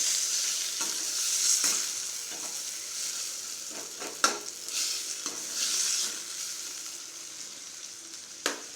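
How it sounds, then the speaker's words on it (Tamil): Tomato, curry leaves and coriander leaves sauté in a hot pan, giving a steady sizzle broken by repeated scraping stirs of a spoon, close and fairly loud with no talking. "தக்காளி, கருவேப்பிலை, கொத்தமல்லி தழை, போட்டு நல்லா ஒரு 5 மினிட்ஸ் நல்லா வணக்கிக்கலாம்"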